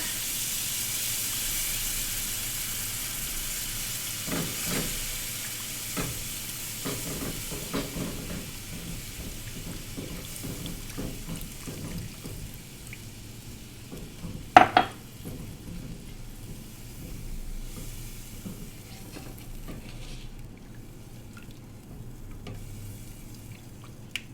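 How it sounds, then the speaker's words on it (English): Milk poured slowly into a hot pan while making white chocolate cheesecake, giving a steady hiss and sizzle with scattered small pops and one sharper clatter midway. "Okay, and then we slowly deglaze it with the milk."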